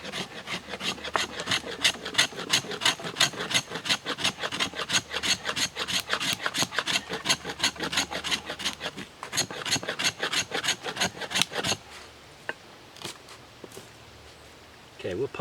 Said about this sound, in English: So I'm going to scrape a pile of this up and just give you a quick demo.